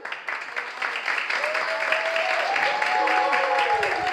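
Supporters of one contestant at a live show cheer and clap together, a continuous crowd roar with sustained shouted tones rising toward the end, steady and fairly loud throughout.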